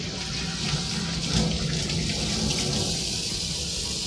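Tap water runs steadily from a faucet to rinse the blood from a cleaned sea bream in a cooking-school kitchen, a continuous close splashing hiss with no talking.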